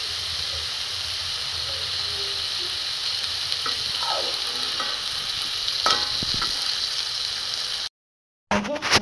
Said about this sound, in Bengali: সব লুচি ভাজা হয়ে গেছে।